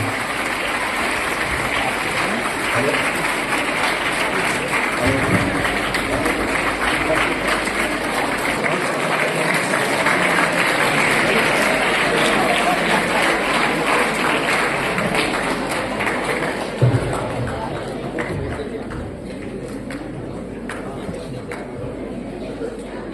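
An audience at a school welcome event for a mayor applauds as the chief guest comes on stage. The clapping is loud and sustained, with voices mixed in, and thins out toward the end.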